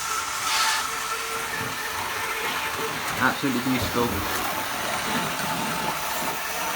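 A Triang blue Pullman model train converted to DCC runs steadily around a layout, a continuous soft hiss and rumble of motor and wheels with one brief spoken remark over it.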